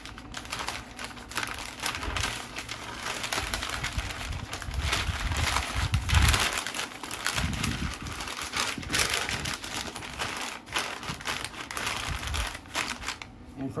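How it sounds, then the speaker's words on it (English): Stiff butcher paper crinkles and rustles as a smoked brisket from a Traeger is wrapped by hand, a continuous close, busy crackling with occasional heavier handling thumps. "I'm going to wrap it using butcher paper"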